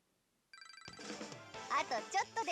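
A bell rings in the video game Persona Q2, a rapid trilling ring that starts abruptly and then gives way to game voices and sound effects.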